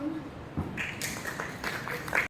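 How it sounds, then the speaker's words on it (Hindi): Audience applause after a Hindi poem recitation at an inter-school competition for Hindi Diwas, rising into a steady wash of clapping partway through the short clip, with voices mixed in. "जोरदार तालियां।"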